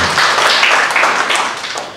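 A church congregation claps together during a Good Friday service, a dense, loud wash of many hands close and steady for a couple of seconds before easing slightly.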